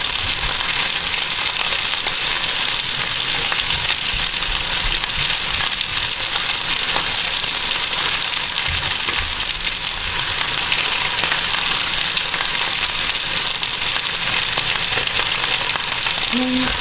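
Vegetables with mashed garlic fry in a hot pan for a Thai-style halibut dish, a steady dense sizzle running throughout with occasional stirring, close and fairly loud.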